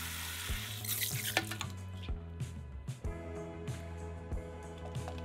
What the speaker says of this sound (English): We're going to dilute it with a ton of water.